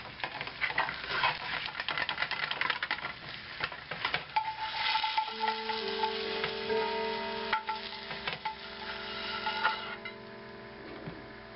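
An egg fries in a pan, a steady crackling sizzle with scraping stir sounds and a faint tonal hum running beneath, close and continuous.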